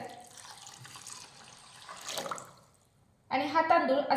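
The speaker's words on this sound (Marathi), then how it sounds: "यामध्ये एक ग्लास पाणी घालूयात" A glass of water is poured into washed rice, a soft trickling and splashing stream that swells and then fades, followed by a voice speaking up close.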